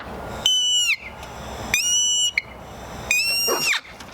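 A Quaker Boy Super Screamer predator call imitating high-pitched rabbit distress gives three loud, close, piercing wailing squeals, each about half a second long with a falling tail, separated by short pauses.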